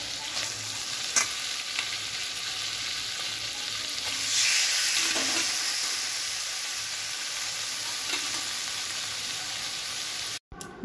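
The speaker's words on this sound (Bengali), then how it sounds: "এবারে এখানে আমি কচুর শাকটা দিয়ে নিচ্ছি।" Taro leaves stir-fried in a pan with spices for a prawn and taro-leaf dish, giving a continuous moderate sizzle and crackle with occasional scraping stirs, heard alone without talk.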